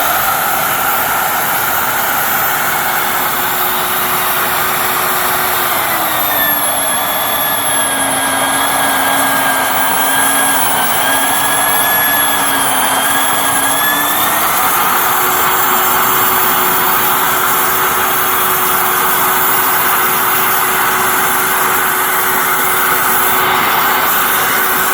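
A VEVOR magnetic drill cuts metal under load with a loud continuous motor whine, its pitch dropping as it bogs down midway and then rising back, close and steady with no talking.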